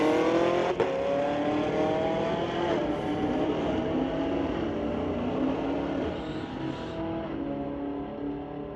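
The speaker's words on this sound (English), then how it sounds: "Justin Burschel, 1971 Chevy Camaro. Going against the white Camaro in the Lordco lane." A 1971 Chevy Camaro drag races a white Camaro in a street-legal outlaw class, a loud engine roar climbing in pitch through the gears, sustained and gradually receding.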